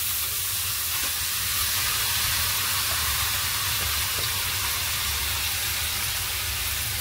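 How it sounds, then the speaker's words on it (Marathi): A lit gas stove burner under a cooking pot, a constant loud broadband roaring hiss that runs unbroken, with faint knocks of the pot and no talk. "आता इथे मी गॅस चालू करून टोप ठेवलाय"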